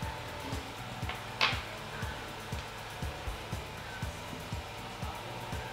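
A sewing machine stitches the side pocket of a sutana from the waist down, giving a faint, low motor hum under a quiet run of evenly spaced soft thumps from the needle.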